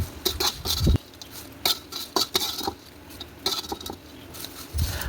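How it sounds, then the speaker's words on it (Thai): Metal scoop clattering and scraping as fried grasshoppers are lifted into a strainer to drain oil, a quick series of sharp clinks and rattles with brief pauses between. "ตักใส่ตะแกรงเพื่อเสด็จน้ำมัน"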